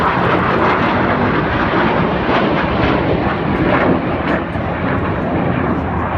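Red Arrows jets fly an air display at the Bournemouth Air Festival with a loud, sustained roar of jet engines, a broad rushing wash of sound that stays strong throughout.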